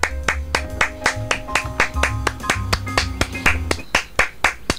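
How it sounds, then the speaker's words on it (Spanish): A lone person clapping in a steady, evenly spaced rhythm, sharp and close, over a thumping low background beat, with no crowd joining in. "está aplaudiendo sola"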